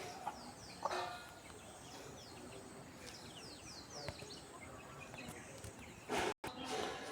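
Chickens cluck in scattered short calls over a steady outdoor background, fairly close, with a brief louder burst near the end.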